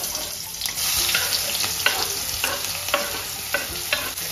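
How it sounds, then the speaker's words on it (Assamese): Onions sizzle steadily in oil for an egg curry as a spatula stirs them in regular scraping strokes, close and fairly loud with no talking. "পিঁয়াজটো সেইটোলৈকে একদম ভাজিম"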